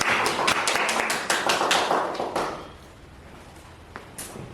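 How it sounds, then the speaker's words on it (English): An audience at a 30-year wedding anniversary celebration claps as a guest comes forward: a burst of many sharp claps that thins out and fades after about two seconds, leaving a few scattered taps. "Let's give him a round of applause as he comes."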